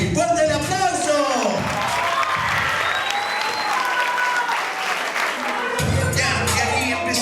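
An audience at a television show claps loudly and continuously, with scattered cheers and whoops in the mix and people talking over the applause.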